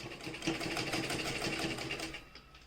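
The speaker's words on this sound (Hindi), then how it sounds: "ये देखिए, ये मैंने बिल्कुल सीधी सिलाई लगाई है" A sewing machine runs steadily at close range, stitching a straight seam along a shirt placket with an even, rapid mechanical whir for a few seconds, with no speech.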